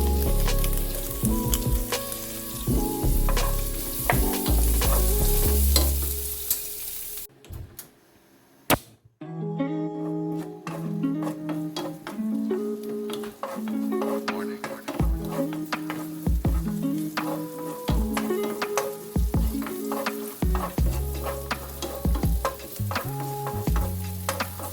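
Yellowfin fish steak sizzling and frying in a pan, with steady crackling and repeated stirring or scraping clatter, briefly quieter midway before resuming close and loud.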